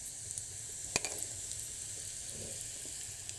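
Cumin seeds and hing sizzle faintly in hot ghee, a soft steady crackle with one sharp pop near the start, no voices.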